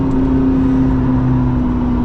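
A McLaren P1 accelerating, heard from inside as a loud steady engine drone with a strong whirring tone, close and continuous for a couple of seconds.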